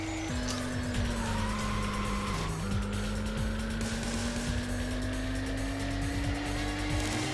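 Car tires squeal in a sustained handbrake drift in the racing video game Racing Lagoon. A long, loud screech holds over a steady engine drone with a brief dip partway through, and no voices are heard.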